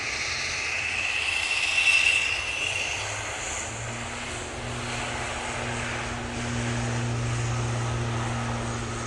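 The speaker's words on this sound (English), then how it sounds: "this prop is making an absolute racket." A propeller plane departs Manchester Airport bound for Belfast, its loud droning engine racket steady and continuous with a low humming tone throughout.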